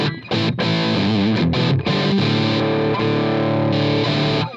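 Electric guitar played through a BOSS DS-1 distortion pedal with the drive turned low, into an amp, giving sustained chords and notes with a few brief gaps, loud and close with no talking.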